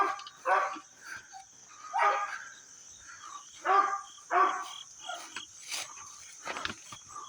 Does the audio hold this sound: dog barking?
yes